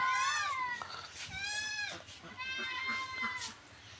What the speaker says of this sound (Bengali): দেখবেন সুন্দর একটি বিড়ালের বাচ্চা